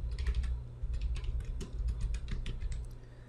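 Quick soft taps on a mobile phone keyboard while entering a search for Google Translate in the Play Store, a light irregular patter of keystrokes over a low steady hum.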